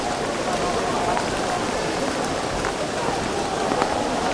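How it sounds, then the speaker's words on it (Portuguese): Steady rain hissing down over a football stadium during a rainy Brazilian league match, a dense continuous wash of noise with faint crowd or voice murmur beneath it. "Está chovendo ainda mais forte."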